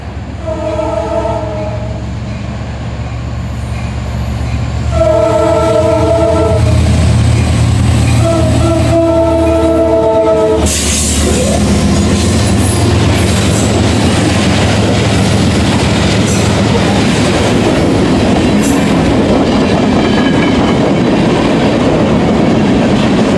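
A Norfolk Southern freight train with ES40DC and C44-9W locomotives sounds several long horn blasts, then rolls past close by with a loud, sustained rumble and rail clatter.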